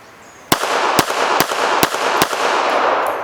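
A pocket pistol fires Barnes ammunition: five loud, close gunshots at a steady pace, roughly every half second, each sharp crack trailing into outdoor ringing.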